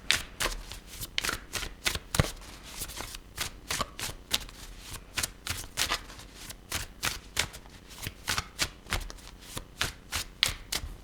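Tarot cards are shuffled by hand in quick bursts of crisp riffling and slapping, a near, fairly quiet, irregular run of sharp flutters repeating throughout.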